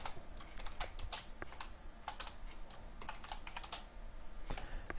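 Rapid, uneven clicks and taps from typing on a computer keyboard during coding, close and fairly quiet, with short pauses between bursts of keystrokes and no speech.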